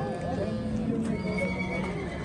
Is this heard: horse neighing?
yes